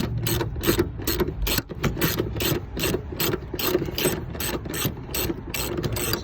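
A ratchet wrench loosening a 14 mm bolt during a Toyota seatbelt replacement, a rapid, even run of loud close clicks repeating steadily throughout with no voices.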